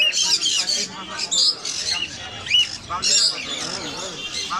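Sun conures, a pair of small parrots, at the Mirpur 1 bird market let out shrill, repeated squawks and chirps in quick bursts, with the busy market din underneath.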